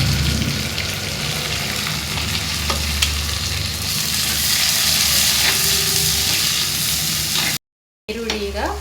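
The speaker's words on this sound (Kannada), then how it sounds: "ಹಾಗೆ ಇದಕ್ಕೆ 2 ಈರುಳ್ಳಿನ ಉದ್ದವಾಗಿ ಹೆಚ್ಚಿ ಹಾಕ್ತಾ ಇದ್ದೀನಿ" Two lengthwise-sliced onions frying in a pan for Kundapura chicken sukka, a loud, dense, continuous sizzle with light stirring, cut briefly by a short gap near the end.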